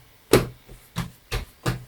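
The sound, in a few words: bread dough being whacked to knock it back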